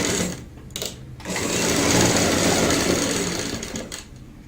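A sewing machine runs steadily for several seconds, stitching along fabric piping. It starts after a brief pause and keeps a loud, continuous mechanical whir up close, with no talking.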